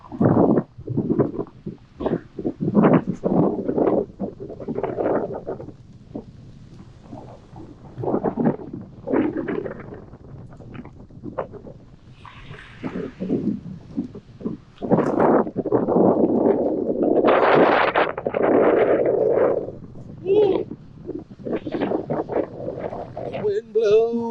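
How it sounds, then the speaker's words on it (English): Wind gusts across a beach on Fire Island, rumbling against the microphone in heavy, uneven bursts, while someone talks over much of it. "It's windy as hell."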